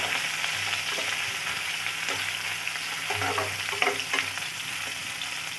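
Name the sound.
stirring and frying chopped onion with cumin and green chilies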